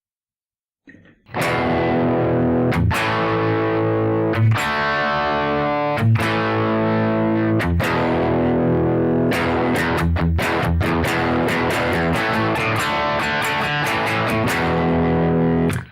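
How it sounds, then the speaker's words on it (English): Heavily distorted electric guitar power chords ring out in a rock rhythm, loud and sustained, each chord struck sharply and left to sustain. "here we are with my electric guitar playing some classic rock power chords"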